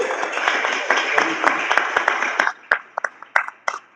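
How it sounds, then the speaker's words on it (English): An audience at a 1 Million Cups Detroit startup pitch event applauds steadily at first, then the sound thins into a few scattered, distinct claps toward the end. "Round of applause, please."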